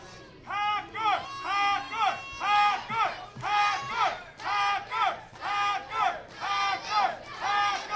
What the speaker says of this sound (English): Crowd's behind Hacker.